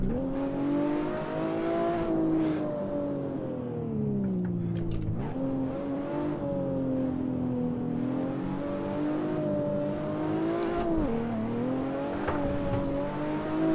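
A Stage 3 BMW 1M climbs a hill at full power, engine drone rising and falling through gear changes in a strong, continuous near roar with faint tire noise and no talk.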